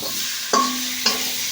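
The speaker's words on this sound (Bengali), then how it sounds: "মশলার সঙ্গে আলু বেশ ভালো করে কষে নেব।" Boiled potatoes being sautéed with spices in a pan for a Bengali egg curry: a steady sizzle with two brief scraping stirs of a spatula.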